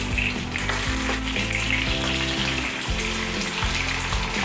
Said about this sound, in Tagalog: Ipiprito lang natin yung ating liempo, yung ating pork belly.